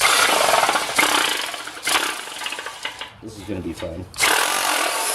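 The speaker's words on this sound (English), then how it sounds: "Got an old hacksaw blade." An old hacksaw blade saws into a Cube 3 3D printer cartridge with harsh, close strokes in short bursts and brief pauses, while someone talks over the cutting.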